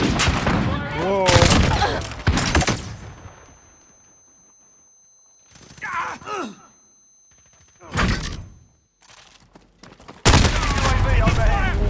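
Gunfire and explosive thuds in a video game firefight after a flashbang, dense loud bursts at the start and end with isolated impacts between, and voices shouting over it.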